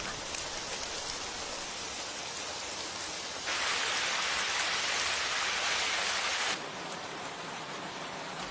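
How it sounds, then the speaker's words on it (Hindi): Steady rain falls in a continuous broadband hiss. It swells noticeably heavier for a few seconds in the middle, then eases back to its earlier level. "बारिश से बचने के लिए मैं यहाँ आ गई।"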